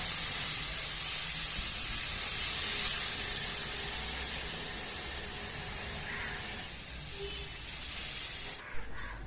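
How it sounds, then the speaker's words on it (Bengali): Water hits spiced masala sizzling in a pan while tangra fish curry is being cooked, giving a loud, steady hiss and spray that fades slightly as the liquid settles. "আমি এবার দিয়ে দিচ্ছি জল।"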